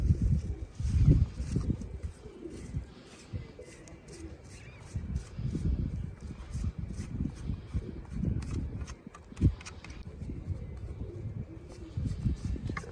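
Pigeons newly brought to a farm coo and call in soft, repeated bursts close by, over a steady low background rumble with occasional light knocks.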